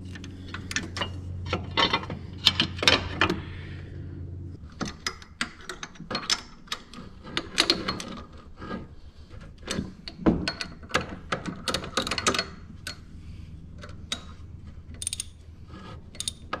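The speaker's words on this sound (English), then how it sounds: "tighten our camshaft sprocket bolt." A ratchet clicks in irregular bursts while tightening the camshaft sprocket bolt on a VW TDI 1.9 ALH diesel, close and fairly quiet, with pauses between runs of rapid clicks.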